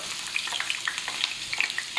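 Onion sizzles in hot cooking oil in a frying pan: a steady, close hiss dotted with light crackling pops and no voices.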